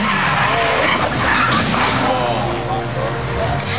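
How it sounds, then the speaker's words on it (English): A car doing wheelies on a Christchurch back street, its engine roaring and tyres skidding continuously and loudly, with a sharp burst partway through and a voice speaking over the noise. "It showed the car on a Christchurch back street doing wheelies and eventually crashing."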